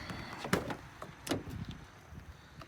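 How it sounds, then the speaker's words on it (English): The back door of a 6.0 Powerstroke pickup truck is opened, giving two distinct latch-and-swing thumps about a second apart, close by, with light handling noise in between and no talk. "let's open this back door here."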